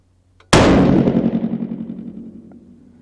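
A single loud 6.5 PRC rifle shot fired with an H4831 powder load, a sharp crack at close range followed by a long rumbling decay that fades over a few seconds.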